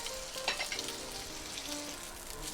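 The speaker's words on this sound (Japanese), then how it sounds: "なのでこう焼いてあげる" Bacon fries quietly in a pan with a soft, continuous sizzle and a brief cluster of crackles and scrapes near the start, close but low in level, with no voices.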